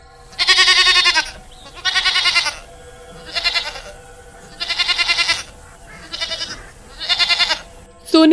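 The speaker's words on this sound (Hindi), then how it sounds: "उसकी बकरियां खुद ही घास चर रही होती हैं" Grazing goats bleat in six loud, separate calls, each lasting roughly half a second to a second with short pauses between, close to the listener over a quiet outdoor background.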